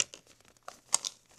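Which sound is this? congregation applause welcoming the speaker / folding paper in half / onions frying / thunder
folding paper in half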